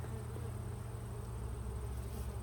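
Honeybees swarm over a heavy hive frame holding brood, a dense, steady low buzz close by that never lets up.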